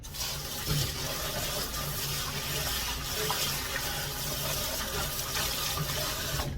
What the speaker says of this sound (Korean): 명아주 씻으실 때 박박 씻으세요